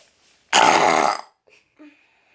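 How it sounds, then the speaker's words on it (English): A person burps after drinking Coke: one loud, raspy belch lasting under a second, followed by a couple of faint, brief sounds in near silence. "So who wants to compare that burp?"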